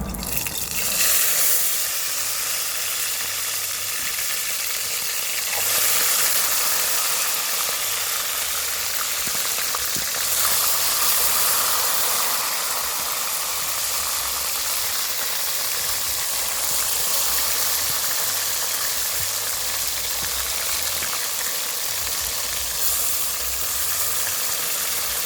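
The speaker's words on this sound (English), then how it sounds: "this how we gonna fry the chicken" Chicken frying in a very hot pot in a Jamaican kitchen gives a loud, steady hiss and sizzle. The sound runs without a break, close up, with no talk over it.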